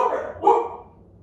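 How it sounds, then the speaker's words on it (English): A single hound dog bark, close by and fairly loud, fading into quiet afterward. "Pardon the dogs."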